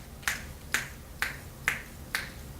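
Five crisp finger snaps ring out one after another at a steady pace of about one every half second, close and clear, with nothing else around them in an active shooter training session.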